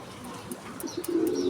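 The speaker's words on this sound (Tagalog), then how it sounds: "Ay, ibon yan." Pigeons at a loft in Tayabas, Quezon, giving soft low coos near the end amid outdoor background noise and faint chirps.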